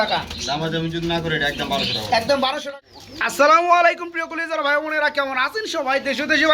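Pigeons coo at a pigeon farm in Bangladesh, their low, throaty calls close by and largely mixed beneath a person talking loudly over them.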